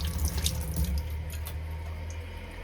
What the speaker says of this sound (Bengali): আর এখন ভালো করে ধুয়ে নিই